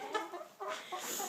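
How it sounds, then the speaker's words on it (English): Large caged chickens on a homestead cluck softly in a few short bursts, fairly faint and close by, with no one talking. "You can hear the, the big chickens behind me"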